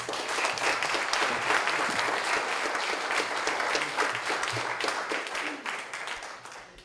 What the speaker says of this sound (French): Et une bonne main d'applaudissements.